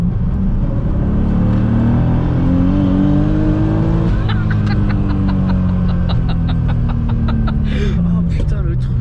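A BMW E36 sleeper with about 650 horsepower and a six-speed gearbox pulls hard from inside the cabin, its engine roaring and climbing in a loud steady rise, then a rapid series of sharp pops and clicks near the end.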